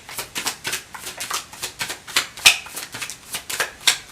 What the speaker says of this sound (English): So I'm going to just lay out these cards here real quick.